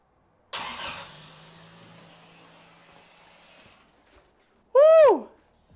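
A 1979 Toyota Corolla with a swapped engine goes through key-on fuel priming: a buzzing whir runs for about three seconds, then stops, followed after a short pause by a loud, brief whoop.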